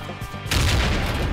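A video game explosion in a Saints Row-style game bursts suddenly and loudly about halfway through, then settles into a sustained crackling rumble, with no talking over it.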